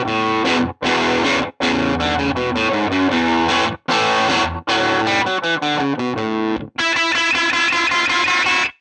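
Distorted electric guitar plays a riff with slow note bends, loud and gritty, in repeated phrases separated by brief gaps, ending on a long sustained, buzzing bent note.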